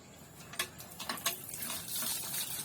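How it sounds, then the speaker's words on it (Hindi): Water splashes and trickles close by as someone washes their hands and face outdoors at a banana farm, with faint irregular splashes and a soft continuous flow. "हाथ मुँह धोते हैं"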